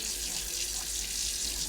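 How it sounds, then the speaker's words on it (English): Lukewarm tap water runs steadily in a house sink over a bear skull being cleaned, a continuous close hiss of flowing water with no talk. "Now I'm back in the house, pouring a little bit of kind of lukewarm water over it while I work on it."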